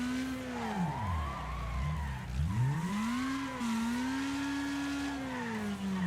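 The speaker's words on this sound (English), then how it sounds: "And this car fucking spins around." Race car in the Wreckfest video game spinning out, its engine note swooping up and down while tires squeal in long skids, loud and continuous throughout with no talking.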